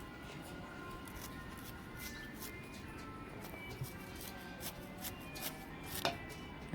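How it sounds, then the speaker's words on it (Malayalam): A knife taps quickly and steadily against a cutting board, chopping hedge spinach greens in light rapid strokes, faint and close, with a sharper knock near the end. "അമ്മ അവിടെ നിന്ന് മെല്ലെ അതൊന്ന് അരിഞ്ഞെടുക്കട്ടെ"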